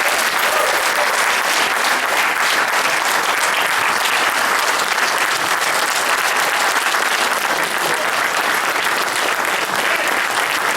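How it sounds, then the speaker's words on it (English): Audience applause at a book signing for former New York mayor David Dinkins: dense, steady clapping from a crowd that fills the whole stretch at even loudness, with no talk over it. "We want to give Mayor Dinkins a round of applause."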